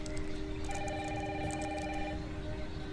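An indoor telephone rings with a steady electronic tone over a constant background hiss of heavy rain.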